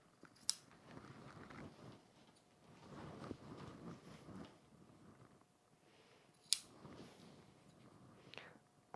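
Scissors trim away excess fabric at the side seams of a foot-long flexi frame pouch, giving quiet, close snips and soft rustles, with a few sharp crisp cuts spread among faint handling sounds.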